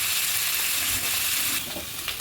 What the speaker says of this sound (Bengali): ভাজা হচ্ছে মাছটা, মাছের মাথাটা।